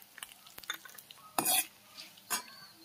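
Green chillies and cumin seeds go into hot oil in a pan, producing a short burst of sizzling and spatter along with a few clinks and stirring scrapes from the utensils.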